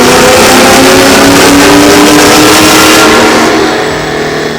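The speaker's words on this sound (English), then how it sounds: "Now this is what it sounds like after the Corsa exhaust." Car engine revving hard through a Corsa stainless exhaust with 2 3/4-inch pipe and black tips, a loud, sustained full-throttle pull close by that eases off near the end, with no talking.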